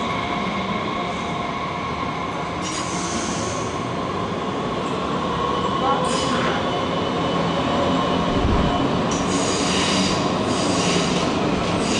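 Trains at Frankfurt main station produce a continuous loud rail rumble, with brief high wheel squeals and a steady broad hiss running throughout.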